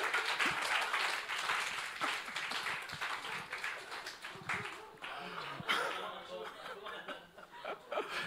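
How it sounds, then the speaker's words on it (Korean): Applause from a church young adults' congregation during a worship service, dense clapping mixed with chuckles and laughter that stays fairly steady, then thins and fades toward the end, with some talk underneath. "자, 우리 박수 한번 쳐주십시오."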